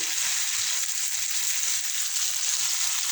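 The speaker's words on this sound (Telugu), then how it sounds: "ఇప్పుడైతే ఇంకా ఆయిల్లో మాత్రం ఇవన్నీ ఫ్రై చేస్తాను" Onions and vegetables fry in hot oil for a sambar, making a dense, constant bright hiss of sizzling close to the pan with no break.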